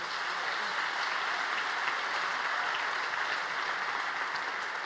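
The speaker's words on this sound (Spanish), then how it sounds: "Dale fuerte aplauso." Steady, loud applause from a congregation at a youth night church service, sustained clapping with no break throughout.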